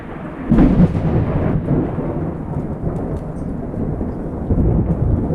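A deep rumble of thunder rolls in over steady heavy rain, loud and close, fading into continuous downpour.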